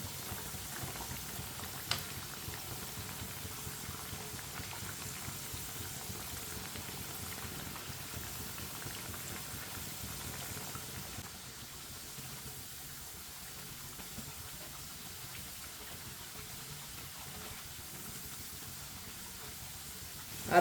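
Raw potato aloo tikki frying in a pan of oil, a quiet, steady bubbling sizzle that holds evenly throughout, faint and alone with no voices.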